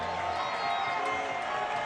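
A large crowd at a college football game, ULM against Troy in 2024, roars in a steady, loud, unbroken wash of noise that carries across the stadium.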